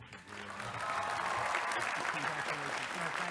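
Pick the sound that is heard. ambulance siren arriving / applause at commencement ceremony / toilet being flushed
applause at commencement ceremony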